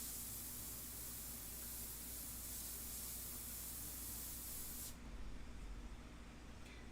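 An airbrush sprays paint onto a portrait surface with a constant, close, airy hiss that cuts off abruptly near the end, leaving lower rumbling behind.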